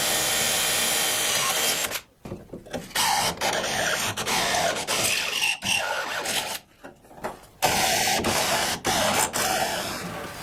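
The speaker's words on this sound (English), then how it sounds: "what an awkward spot to drill. But I've got my 2 holes" An electric drill whines loudly in steady bursts, briefly stopping and restarting a few times as it bores into material.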